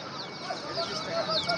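Chicks peep in short high bursts at the Hemayetpur pigeon market, faint and scattered amid background chatter and people talking.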